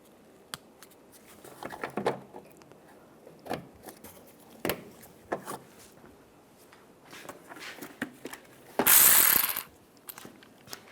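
Ratchet clicking while bolts are snugged down on a 2007-2014 Cadillac Escalade EVAP canister vent valve, close and fairly faint, in short scattered bursts with one louder rasping burst near the end.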